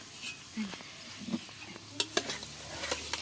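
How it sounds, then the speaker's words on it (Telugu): Masala fries in a pan for Nellore-style country chicken biryani: a soft sizzle under intermittent stirring clatters and scrapes of a spoon against the pan, heard close. "ఇప్పుడు ఈ మసాలా కొంచెం ఏగింది కదా"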